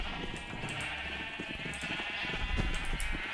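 Sheep bleat repeatedly in Minecraft while wool is gathered, a few soft, nasal calls close by over a faint steady game background.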